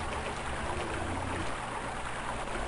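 Steady, dense rush of water flowing through a dark cave in the game Overblood, a continuous wash with a low rumble underneath, constant in level and alone without voices.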